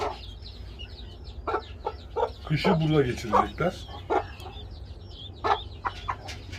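Guinea fowl chicks and a hen cluck and peep in short, scattered calls around a farmyard, fairly near, while someone talks over them.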